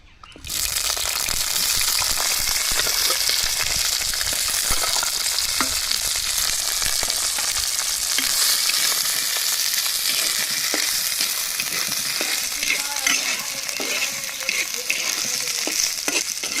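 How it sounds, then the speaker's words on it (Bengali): Onions dropped into hot mustard oil with two bay leaves for a village-style duck curry, erupting into a loud, steady, close sizzle that continues unbroken, with faint stirring clatter. "সরষের তেল আমি দিচ্ছি, তেজপাতা 2টো, এখন আমি পেঁয়াজ দিচ্ছি।"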